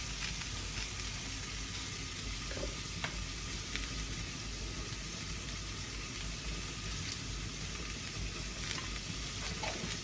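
A vegetable fries in a little oil with salt and turmeric, a continuous soft sizzle at moderate distance, fairly quiet and even throughout with no talking.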